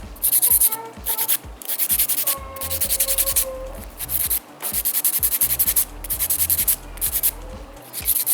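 A file rasps across dried acrylic fibre nails in quick, rhythmic strokes. The sound is close and loud, with brief pauses between bursts and no speech.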